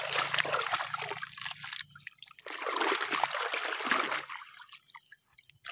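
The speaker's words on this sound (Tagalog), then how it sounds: "Sobrang lakas ng agos ng tubig." Strong tidal water current rushes at low tide, loud gushing in bursts that fade and return, close by and alone.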